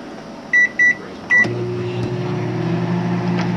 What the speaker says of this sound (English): This is an ordinary microwave